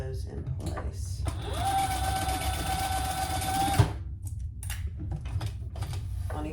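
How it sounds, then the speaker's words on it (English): A sewing machine bastes straps in place on a crossbody bag, a steady whirring run of about two seconds that ends with a click, surrounded by softer handling noise. "we're just going to baste those in place."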